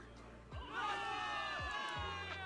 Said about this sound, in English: Cheers rise up from the gathered soldiers.